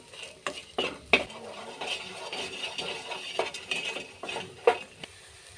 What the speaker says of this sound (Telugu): ఈ విధంగా రంగు మారి మంచి కలర్ వచ్చేంత వరకు వేయించుకోవాలి మాడిపోనియకూడదు